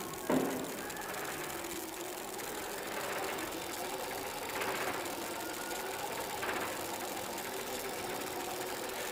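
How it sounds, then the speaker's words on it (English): An old fire engine's original motor runs at a faint, steady idle, a soft continuous rattling hum with a brief knock at the start and a few gentle swells. "Can you guys hear the engine running? It's original motor."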